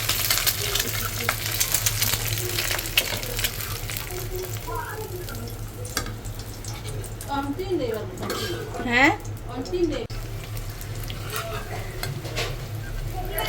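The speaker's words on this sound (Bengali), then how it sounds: "এদিকে তো পরোটাগুলো ভেজে নিতেছি" Parathas fry in a pan with a steady sizzle, accompanied by clinks of utensils and cookware and occasional stirring, close and moderately loud throughout.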